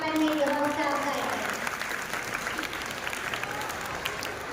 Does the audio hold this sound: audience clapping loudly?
yes